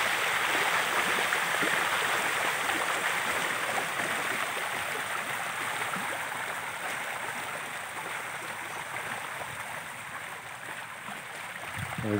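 Water current streaming steadily past a fish pen, a broad continuous rushing and gurgling that holds at an even level for the whole stretch, with no voices.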